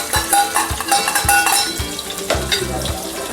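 Sliced onions fry and sizzle in a pan with hot garam masala while a spoon stirs, scraping and clinking against the metal in an uneven rhythm, up close and without talk.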